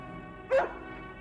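A single short, dubbed dog bark or yelp from the comedy film Kung Pow pops out clearly over a quiet hum, loud and brief.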